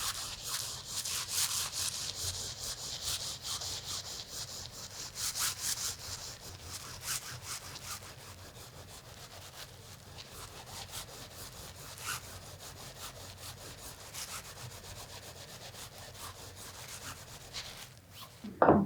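Hands rub wet wool felt side to side in a steady, close rasping swish that continues at an even rhythm for the whole stretch, with no talking.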